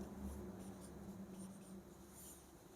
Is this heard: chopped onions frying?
no